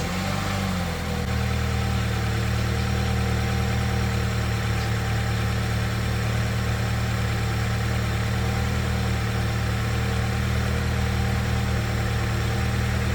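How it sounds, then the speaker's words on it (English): A Mini Cooper F56 engine catches after a brief start and settles into a steady, even idle, a constant low hum with faint vibration running unbroken throughout. "Let's go ahead and start the car."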